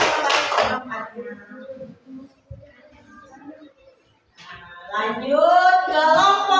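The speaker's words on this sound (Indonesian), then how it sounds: "Kita beri tepuk tangan untuk kelompok 2." A short burst of clapping from schoolchildren in a primary school classroom for a presenting group, fading within a second into a teacher's talk and room chatter.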